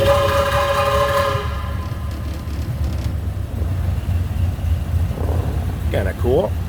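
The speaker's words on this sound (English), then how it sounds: "We'll change that horn sound." A loud, harmonic horn on a 1928 Ford Model A Roadster Pickup blares for about a second over a steady low engine rumble, followed by a brief voice near the end.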